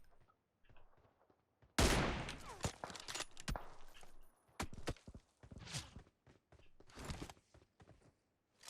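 Automatic rifle fire in PUBG Mobile, a sudden loud burst followed by repeated close shots and scattered bursts, with short gaps between them and no talk.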